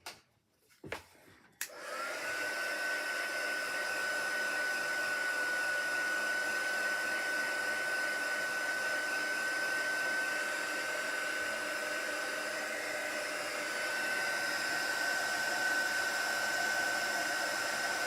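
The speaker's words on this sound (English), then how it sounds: "then we'll get our heater out" A heat embossing tool blows hot air over clear embossing powder, a steady whirring fan roar with a thin high whine that starts after a couple of clicks and runs unbroken.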